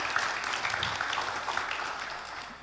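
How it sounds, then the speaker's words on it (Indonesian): A provincial final of a national quiz competition, where the audience gives a moderate round of applause, its dense clapping fading slightly toward the end with no talk over it. "Baik, tepuk tangan dulu untuk Reguse."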